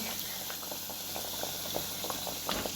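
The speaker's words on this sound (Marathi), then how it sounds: "असा मस्त खमंग खरपूस छान हा वडा तळून घ्यायचा" Chana dal vada deep-fry in hot oil, which gives a steady, dense bubbling and crackling hiss throughout, close and continuous, with no voices.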